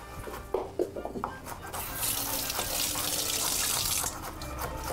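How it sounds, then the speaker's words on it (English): Running tap water pours over a celery stick held under the faucet at a kitchen sink, a steady broadband splash lasting a couple of seconds after a few light clicks and handling knocks. "Give it a quick rinse."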